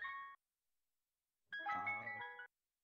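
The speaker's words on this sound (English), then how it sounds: "Hey, it's a friggin' ice cream truck." A melodic ice cream truck jingle plays in two bursts of bell-like tones, a short phrase followed by a longer one after a pause, fairly clear and close with no talking over it.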